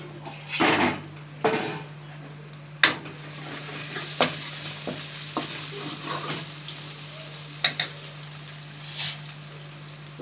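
Onions, tomatoes and spices for a tamarind garlic kuzhambu sizzle softly in a pan as a spoon stirs and scrapes, knocking against the metal in irregular clinks over a low steady hiss.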